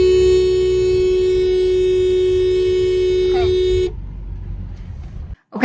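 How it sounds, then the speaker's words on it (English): A car horn blares in one long steady tone for several seconds, then cuts off, leaving quiet background with a voice. "we're gonna hit the horn and see what happens"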